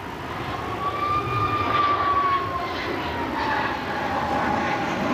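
A United mainline jet airliner arriving inbound from Chicago at Cleveland Hopkins, its steady engine roar with a whining tone sliding slowly in pitch as it passes at moderate distance, no talk.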